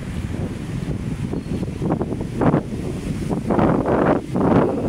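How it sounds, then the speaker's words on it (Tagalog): Strong wind at Manila Bay buffets the microphone in rumbling gusts that swell and fade, with a faint wash of surf underneath. "ang lakas ng hangin, oh"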